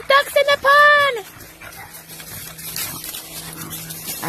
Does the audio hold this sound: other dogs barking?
yes